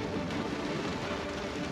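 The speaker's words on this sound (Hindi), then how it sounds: "मानसून की बारिश ने गर्मी के मौसम के खत्म होने का इशारा कर दिया।" Monsoon rain pours steadily over an Indonesian island rainforest, a dense, continuous hiss of drops on foliage with no breaks, heard alone at moderate loudness.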